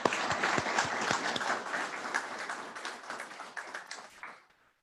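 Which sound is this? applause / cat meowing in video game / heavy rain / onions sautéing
applause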